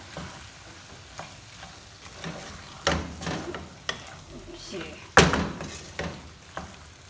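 Potato and egg masala being stirred in a frying pan, with a soft sizzle beneath intermittent scraping and clattering strokes of the spoon, growing louder in bursts near the middle and end.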